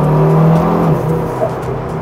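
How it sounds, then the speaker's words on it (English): Loud, close engine drone of a KTM X-Bow GT-XR with a rising turbo whine and revving, continuous and strained throughout. "turbo and engine can scream at high revs."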